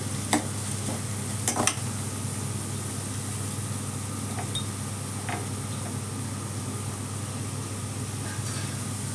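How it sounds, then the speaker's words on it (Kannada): Spice tempering sizzles in hot oil for a black-eyed bean curry, a steady close frying hiss with a few sharp pops and spatters early on, then settling into an even crackle. "ಒಗ್ಗರಣೆ ಪಟಪಟ ಸಿಡಿದಾಗ"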